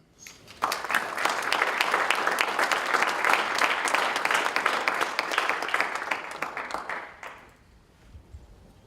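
An evening lecture audience bursts into sustained applause welcoming a speaker, dense and steady for several seconds before tapering off quickly into quiet.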